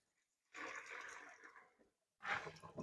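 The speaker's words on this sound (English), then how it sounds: "when you drain your pasta, use a colander, and then I let the cold water run" Cold tap water running over drained spaghetti in a colander, a steady splashing gush lasting over a second, a brief pause, then another burst of pouring, close and fairly quiet.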